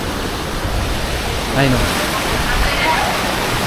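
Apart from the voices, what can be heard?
strong flood water current rushing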